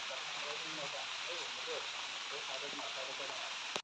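Steady, dense hiss of heavy rain pouring down throughout in an Assamese village, with faint voices murmuring underneath.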